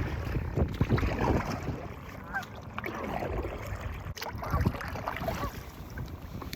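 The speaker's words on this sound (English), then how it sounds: "it's a little windy out here" Wind buffets the water and the microphone while paddle boarding, a rough, gusty rumble with choppy splashes and knocks, loud and near, continuing throughout with no talk.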